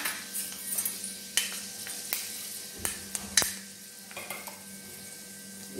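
Fenugreek seeds sizzling in hot oil in a pan, a steady crackling sizzle with sharp spoon-against-pan clinks and scrapes scattered throughout, fairly close.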